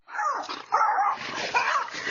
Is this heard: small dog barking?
yes